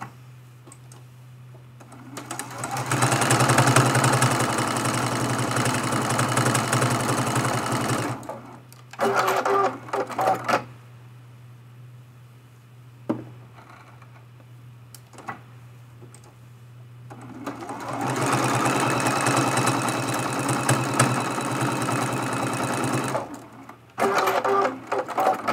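Two long bursts of a sewing machine stitching at a steady, rapid clatter, separated by quieter handling sounds and short start-stop runs.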